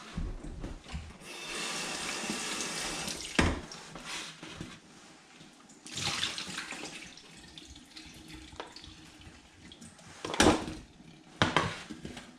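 Tap water runs steadily into a sink while delicate food is gently rinsed and strained for a second washing, with occasional clinks of dishes and louder bursts of splashing near the end.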